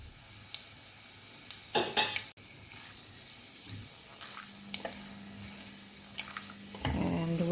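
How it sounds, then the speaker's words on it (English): Cumin seeds, cloves, green cardamom and peppercorns crackle and sizzle in hot oil in a pot, with a few clinks of utensil against the pan and a steady frying hiss building toward the end. "Temper the oil."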